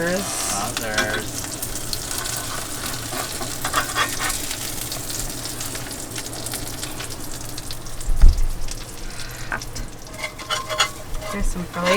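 Beef burgers sizzle and fry in pans on an overland camping trip in northern British Columbia, a loud continuous crackle close up with a clatter of stirring or scraping partway through.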